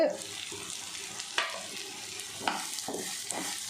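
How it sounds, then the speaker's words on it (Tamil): Finely chopped guava sautés in a pan on low heat for chutney, giving a soft steady sizzle with a few scraping stirs and clinks of a spoon against the pan. "பொடி பொடியாக நறுக்கி வச்சுருக்கேன் கொய்யாக்காய் இதே வதக்கலாம் சிம்மில் வச்சே வதக்குங்க"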